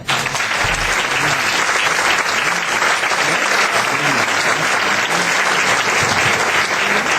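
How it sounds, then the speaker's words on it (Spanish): A large audience at a talk breaks into sustained, dense applause, a loud continuous wash of clapping from many hands that holds steady throughout without any voices rising above it. "Un aplauso, ¿no?"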